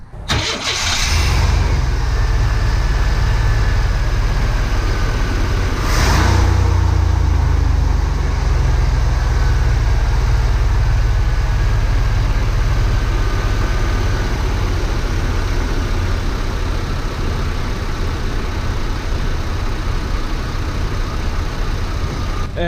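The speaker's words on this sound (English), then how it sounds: "As you heard, the truck sounds fantastic" A Chevy 4.3 truck engine after a spark plug and ignition tune-up, cranking and catching with a sharp start, then idling steadily and loudly with a low, even rumble throughout.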